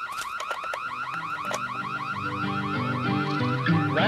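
A car alarm cycles through its rising, warbling siren tones in a repeating pattern, loud and close, while low sustained tones build up underneath it.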